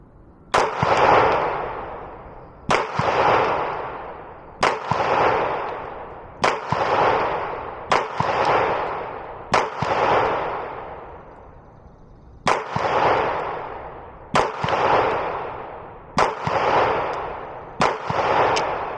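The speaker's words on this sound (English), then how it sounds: "I'm going to shoot the top left one right there, without the Vantage Point Armory compensator" A Glock 19 pistol without a compensator fired at a target 7 yards away, ten sharp, loud, close shots at a steady pace, each followed by a short echo, with one longer pause partway through the string.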